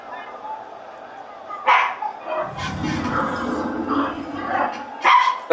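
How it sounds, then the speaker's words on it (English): A puppy gives several sharp yips and barks from close by, in bursts with short pauses between them. Someone talks over the barking. "I got the puppy barking behind me."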